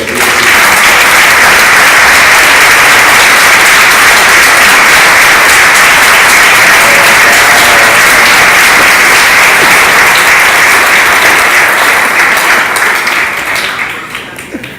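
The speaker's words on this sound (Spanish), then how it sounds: "Dale un aplauso al Rey." A large church congregation breaks into loud, sustained applause, a dense wash of clapping that holds steady for many seconds before tapering off at the end.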